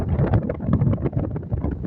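Sea wind on the Sudarshan Setu bridge at Dwarka at night blows hard against the microphone, a loud, rough rumbling buffet lasting the whole short stretch.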